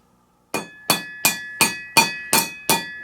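Seven evenly spaced, sharp metallic hammer taps ring out one after another as a treadmill bearing is knocked into place, each strike bright and close with a short ringing decay, no voices.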